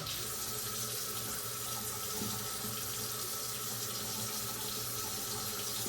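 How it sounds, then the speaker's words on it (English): Water streams steadily from a tap into a sink while a razor is rinsed of hair during a head shave, a continuous even wash with no pauses. "You want to rinse it periodically just to get that trapped hair out of the blades."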